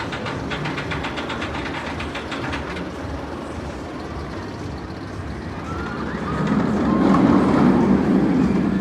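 Batman roller coaster ride at Six Flags Great Adventure, a steady rattling rumble of the train running on the track that grows louder and rougher toward the end, with no talk over it.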